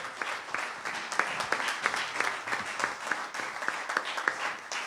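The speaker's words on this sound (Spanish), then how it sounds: "fuerte aplauso a Jesucristo en este día" Church congregation clapping at a moderate distance, fairly quiet applause with distinct individual claps standing out from a soft, steady patter.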